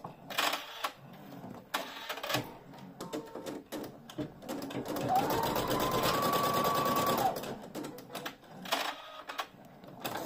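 An embroidery machine stitches a placement square for a leatherette key fob in repeated rapid mechanical bursts with pauses between runs, and a steadier whirring stretch with a faint tone in the middle; close and moderately loud.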